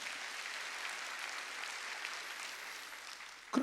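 Church congregation clapping during a Sunday worship service, a steady, dense wash of many hands that holds evenly for several seconds and ends abruptly, with no talking over it.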